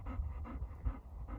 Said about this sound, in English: you can hear the dog breathing because he is fixating me and wants me to throw the ball again